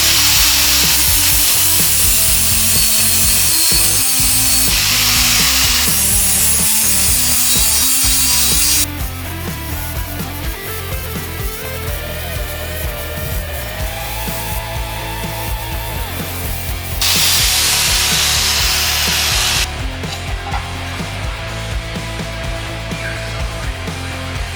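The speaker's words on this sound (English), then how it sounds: "This right here is like a sanding pad. It's not a grinding pad." A power sanding pad grinds steadily on motorcycle metal for a long stretch, loud and continuous, its pitch and intensity shifting as pressure changes.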